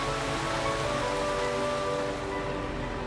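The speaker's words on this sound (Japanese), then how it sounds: "雨音が心地いいわ。" Steady rain falls on a mountain road in an animated children's show about a little bus, a loud, even hiss of drops with faint tonal notes underneath and no voices.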